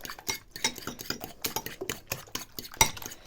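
A utensil rapidly beats eggs against the side of a bowl, a fast, steady clatter of tinny clicks continuing throughout without any voices.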